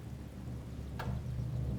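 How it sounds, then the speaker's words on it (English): Heavy rain and thunder in the Medieval: Total War video game, a steady loud downpour with a single sharp thunder crack near the middle and a low rumble continuing afterward. "Heavy downpour."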